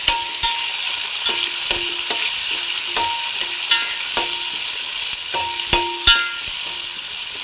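Tomatoes and green chillies frying for chicken biryani, with a steady sizzle and regular spoon scrapes and taps against the pan every second or so, close and continuous.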